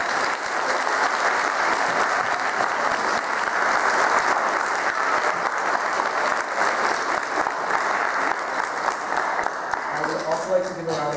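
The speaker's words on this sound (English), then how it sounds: "can we please give a big round of applause to Eileen Liang" A concert audience applauds the emcee at a senior solo concert, a dense, loud, steady wash of clapping that holds for about ten seconds before thinning out, with a voice beginning to speak near the end.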